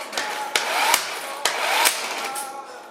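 A power tool run in reverse to loosen lug nuts during brake rotor work on a 2004 Honda CRV. It whirs and whines in short bursts, broken by several sharp hammering impacts, loud and close.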